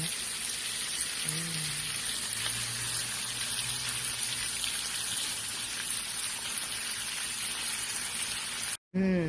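Continuous hissing sizzle of bacon frying on a Blackstone griddle, loud and steady, with a brief voice in the background before a short cut near the end.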